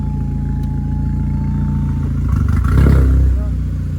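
A loud, tuned Volkswagen GTI engine rumbles nearby and swells as the car pulls out, with a clattering rev near the end.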